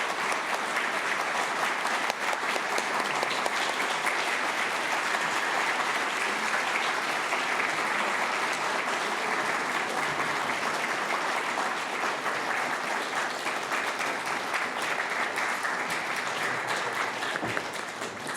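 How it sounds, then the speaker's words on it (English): A warm round of applause greets Japan's Prime Minister Ishiba Shigeru as he enters a room at the Tokyo Global Dialogue, with dense, steady clapping from a large audience sustained for many seconds. "Please welcome him with a warm round of applause."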